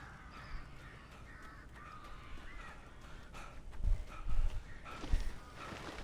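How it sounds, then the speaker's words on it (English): Crows cawing in the Alan Wake Remastered video game, several harsh calls bunched toward the end over a steady low ambient rumble, moderately close. "The birds."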